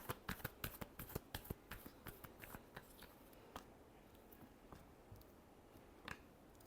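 Tarot cards being shuffled by hand, a quick run of crisp riffling snaps that slows into scattered soft flicks and taps, close and fairly quiet with no talking.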